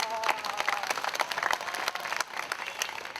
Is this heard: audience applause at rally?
yes